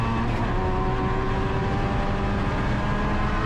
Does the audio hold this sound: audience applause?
no